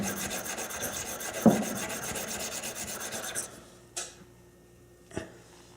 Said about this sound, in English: you just take yourself a stone here